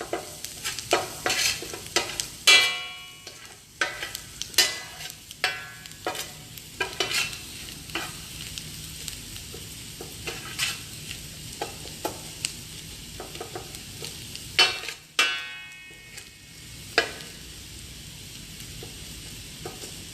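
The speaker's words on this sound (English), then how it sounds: "Let the masala all cook well." Masala sizzles steadily in a hot pan while a spoon stirs and scrapes it in irregular strokes, with a few sharper clatters against the pan and no talking.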